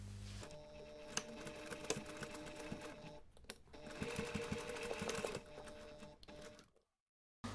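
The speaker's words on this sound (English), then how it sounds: "you can take this to the machine and finish sewing that seam" A sewing machine stitches a wallet seam in quick continuous bursts, close and clear, pausing briefly midway before running on and stopping abruptly.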